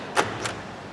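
The central locking on a 2003 Skoda Fabia actuates with two quick mechanical clunks, close and moderately loud, the first stronger than the second.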